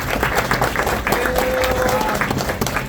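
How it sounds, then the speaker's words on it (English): An audience applauds at a lunch gathering in a pizza restaurant, with dense continuous clapping mixed with crowd noise and voices, loud and close throughout. "so a round of applause for Broadway"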